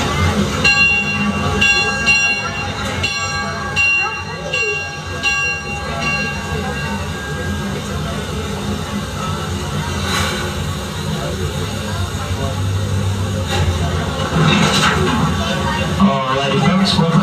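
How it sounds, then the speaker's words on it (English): The Six Flags Texas Railroad amusement park train rolls along with a steady rumble and clatter, a sustained tonal whistle or bell ringing early on, and people talking nearby. "welcome aboard the Six Flags Texas Railroad"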